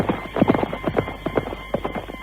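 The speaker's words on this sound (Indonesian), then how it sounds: "orang kepercayaan Ramapati itu pun melambaikan tangan sebelum berkuda menjauh" Horse hooves gallop away in a quick, rhythmic clip-clop, close and fairly loud with a faint hum underneath.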